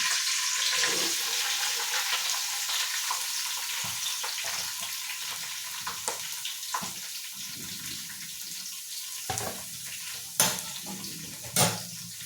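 Sliced onions and green chillies sizzle in a pan for a chicken curry, the frying hiss gradually settling, broken by a few sharp clatters and scrapes of a spoon against the pan.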